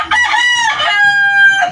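A rooster crows once, a loud, close, drawn-out cock-a-doodle-doo that rises then holds a strained, nasal tone before breaking off, alone without talk.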